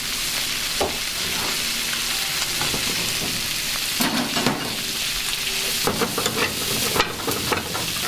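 Food is stirred steadily in a pan over a continuous gentle frying sizzle, with repeated scraping strokes and utensil knocks close by.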